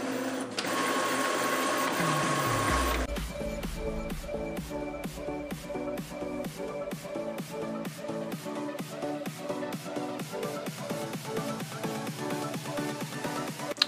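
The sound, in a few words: HP PhotoSmart printer checking newly installed ink cartridges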